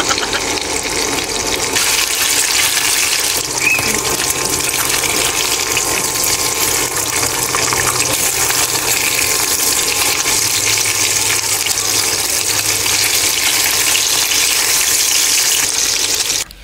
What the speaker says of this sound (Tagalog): susunod na nga po natin iluto itong bacon. Isa-isahin lang natin ilagay sa lutuan. Yan, nagtatalsikan pa yun.